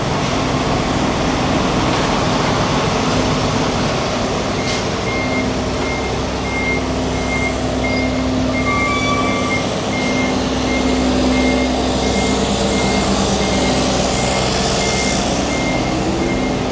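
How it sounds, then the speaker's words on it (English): Refrigerated lorries idle loudly on a street in New York's Meatpacking District. Their low, constant engine and refrigeration-unit drone fills the scene while a reversing beeper pulses in a steady, evenly spaced rhythm throughout. "These refrigerated lorries are really loud."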